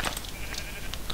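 Sheep in the Minecraft video game bleat in a few short, moderately quiet calls over a busy game background.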